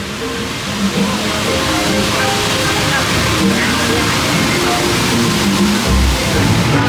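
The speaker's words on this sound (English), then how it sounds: "Much better though now that the waterfalls are back on there as well." Waterfalls running beside the Congo River Rapids ride at Alton Towers, heard as a steady, loud broadband rush of falling water that fills the whole scene without pause.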